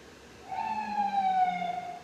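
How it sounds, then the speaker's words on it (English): An emergency vehicle siren wails on Brooklyn streets, a single faint rising-and-falling tone carried from a distance over low city background. "And as you could hear in the background, in these Brooklyn streets, there is sirens."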